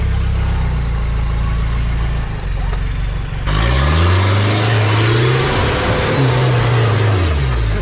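A 4WD engine revving hard as the driver guns it over an off-road obstacle, a loud close roar that abruptly jumps up, then rises and falls in pitch in surging waves.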